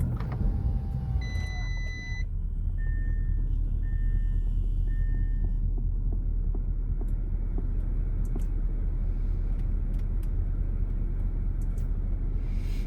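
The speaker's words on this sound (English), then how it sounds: "I'm going to turn on my car real quick" A car started up from inside, with a few short electronic chimes at first and then a steady, close low engine rumble running on without a break and no voices.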